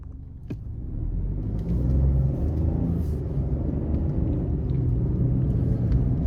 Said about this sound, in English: take this 2025 Bronco Sport Big Bend out on the road for a test drive